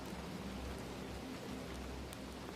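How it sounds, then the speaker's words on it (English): Steady rain against windows makes an even, dense hiss with no breaks, soft and continuous, with no voices. "The rain," said Bristle, as though this were perfectly obvious"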